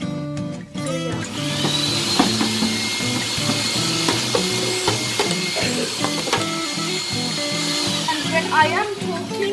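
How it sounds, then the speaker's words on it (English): A running Hoover vacuum cleaner, cleaning an HP Pavilion p6 series PC, drones steadily with a high whine, joined by rattling, clicking mechanical noises and a rhythmic low thumping pattern throughout. "I'll turn off the Hoover."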